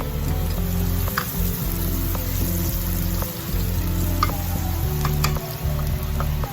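Three garlic cloves sizzle steadily in a hot pan for chicken masala, a dense continuous frying hiss broken by occasional ticks and scrapes of stirring, close and fairly loud with no voices.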